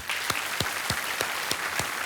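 Studio audience applause on the KBC quiz show, a steady dense wash of clapping that runs the full length alongside rhythmic swooping musical stings.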